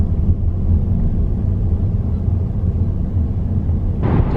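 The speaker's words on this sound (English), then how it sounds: "I don't even know if you can hear me because this car's so freaking loud" Loud, steady low rumble inside a moving car, a dense road and engine drone that fills the whole stretch and swells briefly near the end.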